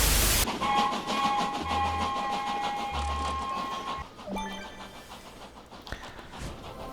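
A train rolls along its track in the Disney Infinity video game, a steady chugging rumble with bright whistle-like tones, then quieter clanks and beeps as it pulls away.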